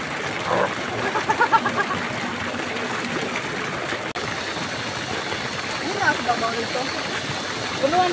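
Hot spring water flows steadily at the Mapaso resort in Mainit, Surigao del Norte, a continuous rushing and splashing that stays even throughout. Voices chatter now and then over the running water.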